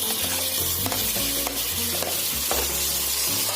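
Onions sauté in a pan with a continuous loud sizzle, while a utensil scrapes and stirs through them in repeated strokes, close by.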